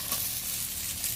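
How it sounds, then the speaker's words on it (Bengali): A fish head fries in hot oil in a pan, giving a steady, close sizzle and crackle that lasts throughout with no talk. "যে কোনো মাছের মাথাটা একটু বেশ ভালো করে ভেজে নিতে হয়।"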